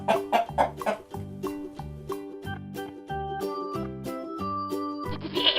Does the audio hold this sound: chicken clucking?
yes